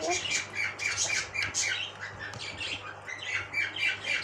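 Repeated harsh parrot squawks and chirps in quick bursts, fairly close and loud, with a faint hum underneath.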